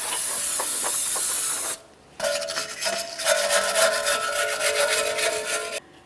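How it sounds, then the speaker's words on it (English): On a Jeep Grand Cherokee (2011–2021), the rear brake backing plate is scrubbed clean during a parking brake shoe job, with a close, rasping brushing noise coming in two bursts separated by a short pause. "Let's clean up the backing plate and mounting area."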